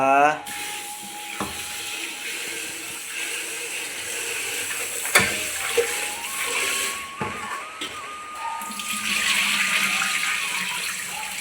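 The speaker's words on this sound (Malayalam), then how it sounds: "അരി കഴുകുകയാണ് തേങ്ങാച്ചോറിലേക്കുള്ള അരി കഴുകുകയാണ്" Rice is washed in water in a kitchen in preparation for coconut rice, with splashing, swirling water and scattered clinks heard under intermittent talking.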